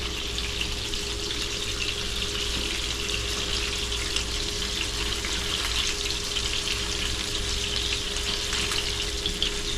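Onion burgers sizzle steadily on a hot griddle, making a loud, even, continuous frying hiss with a low hum underneath and no talking.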